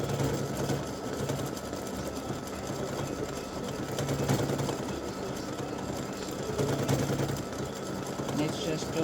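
Embroidery sewing machine satin stitching freestanding lace Christmas tree earrings and a gift tag, a continuous fast mechanical whirring hum, steady and close throughout with a voice talking over it.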